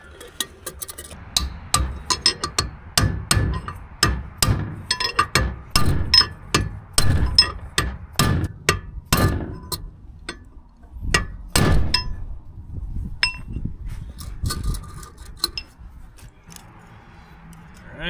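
Repeated hammer blows driving a bearing race into the rear axle hub of a Duramax dually pickup, sharp metallic strikes in quick irregular bursts, loud and close, with ringing clinks and pauses between volleys and no talking.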